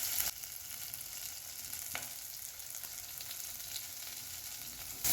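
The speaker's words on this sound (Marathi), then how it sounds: "यालाही आपण दोन ते तीन मिनिटासाठी छान परतून घेऊया" Sliced onion and green chili sauté in hot oil with cumin and garlic, giving a steady, even sizzle with a few faint clicks of stirring, close and without talk.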